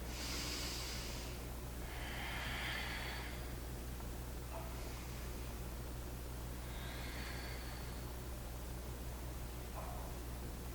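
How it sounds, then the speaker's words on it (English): Long, deep breaths during a yoga pose, several slow inhale-exhale cycles of soft airy breathing over a constant low hum, quiet and close, with no talking. "Take some long deep breaths here"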